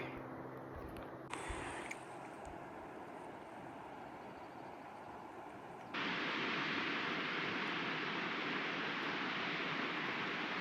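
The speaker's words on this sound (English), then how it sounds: "Oh, there it is. It's just a creek." A flowing creek near a lake in Kokanee Glacier Provincial Park makes a steady broadband rush that jumps suddenly louder partway through, as if coming closer, with no talking.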